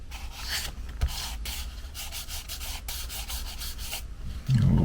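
Pastel being rubbed and blended into paper while sketching a walking trail, a soft dry scratchy friction in steady back-and-forth strokes, close and quiet with no talking.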